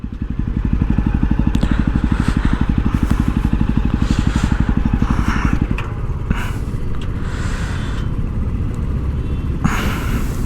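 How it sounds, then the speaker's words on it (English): A Jawa Perak motorcycle engine runs with a steady rumbling beat, then cuts off abruptly after a missed gear shift, leaving a lower, uneven settling noise and faint road sounds. "I jumped the gear, so the motorcycle cut off its engine"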